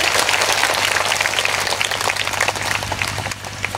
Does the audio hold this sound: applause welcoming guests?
yes